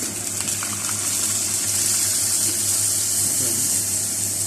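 Water poured steadily into a pot of Peshawari mutton karahi, a continuous close gushing that fills the whole stretch at even loudness with no talking.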